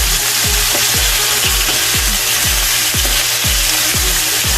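Chicken pieces for chicken Marsala fry loudly in a pan right after being turned over, a dense close sizzle broken by repeated soft scraping strokes roughly every half second.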